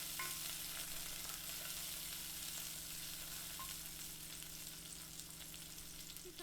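Chopped spring onion bulbs and garlic sauté in hot oil in a pan while a chicken soup is being made, giving a steady, close, continuous sizzle that holds for several seconds with no talking.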